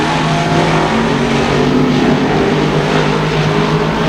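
Sportsman modified race cars roar around the Thunder Mountain Raceway Park oval, a loud, continuous engine drone that swells and fades slightly as the pack passes, with no talk over it.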